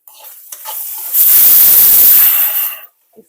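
Vegetable sabzi frying in a pan while being stirred, a loud close burst of sizzling and hissing that swells after a few light scrapes, holds for over a second, then cuts off.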